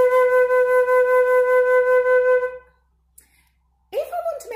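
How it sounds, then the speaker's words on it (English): A single steady flute note held for about two and a half seconds, breathy and clear, then silence before a brief voice cuts in. "I am going to show you a musical instrument called the flute"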